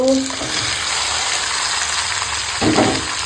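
Onions and green chilies fry in oil with bay leaf, giving a steady close sizzle that swells briefly near the end as the pan is stirred, with no speech over it.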